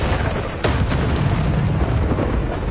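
A Bombarda spell detonates in Hogwarts Legacy during Niamh Fitzgerald's trial, a loud, dense explosive boom with a sharp burst partway through and rumbling debris that carries on to the end.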